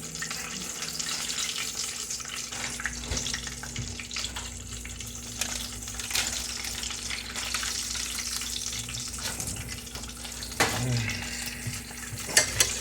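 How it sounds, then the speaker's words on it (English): Potato bombs fry in hot oil with a continuous close bubbling sizzle, broken by occasional clinks and scrapes, at a moderate level with no voices. "Dip into the oil."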